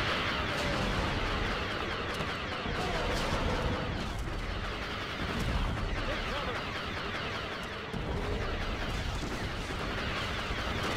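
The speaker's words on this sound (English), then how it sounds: "Grenades are being fired!" Chaotic video game battle in Galactic Conquest with grenades exploding amid continuous gunfire, a dense, loud wash of blasts and shots throughout with a few heavier booms standing out.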